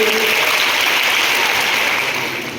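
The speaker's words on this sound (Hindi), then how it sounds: "मुझे जोर से तालियां बजाइए" Dense, loud applause from the crowd at a motivational spiritual talk rolls on without a break and thins slightly toward the end.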